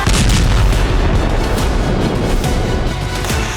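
Drone and Flamingo missile strikes on targets in Crimea produce a dense, loud rumble of heavy explosions. Overlapping booms and blasts roll continuously through the short stretch, with no voices.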